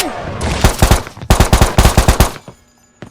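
Loud gunfire in a Backrooms video game: two quick bursts of evenly spaced, punchy shots, close and dominant, separated by a brief gap before the firing stops and quiet returns.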